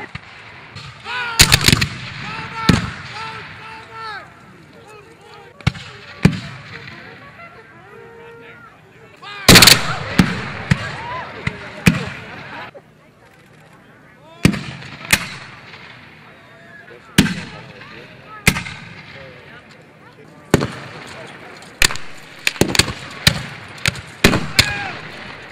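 Rifle volleys and single shots ring out at a Civil War battle reenactment, Confederate skirmishers against Union troops with repeating rifles, loud sharp cracks scattered irregularly across the clip over a distant murmur of voices and crowd.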